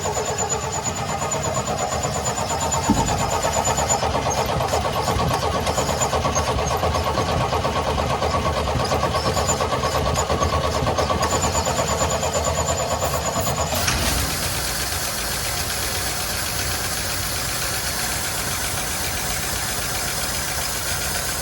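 A 1972 Chevy C10 engine, just revived after the carburetor was blown out, catches and keeps running on its own with a loud, steady idle. Its tone settles and drops slightly partway through, with no voices.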